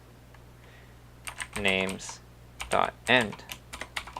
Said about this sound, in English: So we would type in iterator is not equal to